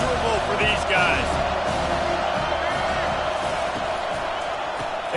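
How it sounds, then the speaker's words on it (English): Football stadium crowd at a Penn State game, a steady loud roar of many voices with whoops and cheers swelling near the start and holding under the noise. "This crowd going to try to make life miserable for these guys."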